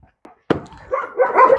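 A dog barks and yips in short bursts during a bite-work training session with a handler, a sharp close onset followed by rapid overlapping yelps and growly barks.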